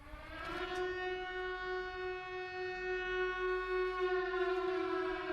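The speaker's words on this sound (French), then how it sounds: "une sirène retentit." A siren in the Silent Hill film sounds with a steady, loud, sustained wail that holds one even pitch and rich overtones throughout, with no talk over it.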